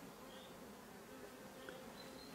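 Bees hum steadily around beehives, a faint continuous buzz with no voices.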